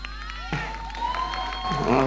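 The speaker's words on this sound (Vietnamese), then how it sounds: "Thôi đủ rồi con, đừng có vỗ tay nhiều quá" An audience at a Catholic priest's homily applauds and cheers, a steady wash of clapping and crowd noise that swells toward the end, with a sustained tone running underneath.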